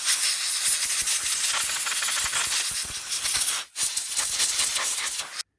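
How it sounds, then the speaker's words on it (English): Compressed air from a compressor blowing debris from around a chainsaw carburettor, a loud continuous close hiss with slight rattling, broken by one brief gap before resuming and stopping abruptly. "the air pressure isn't huge, but it'll just clean it up a little bit"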